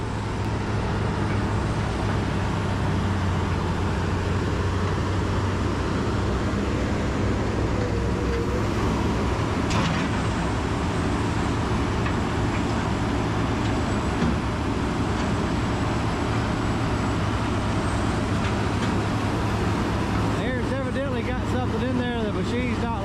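A Rotochopper shredder grinds tires, straining as a tire jams inside, with a loud, dense, steady mechanical roar and rumble throughout and a harsher rattling burst near the end; voices are faintly present.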